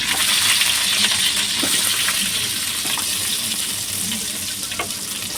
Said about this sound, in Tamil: நல்லா பொன்னிறமாக ஆகிற வரைக்கும் நல்லா வதக்கி விட்டுறலாம்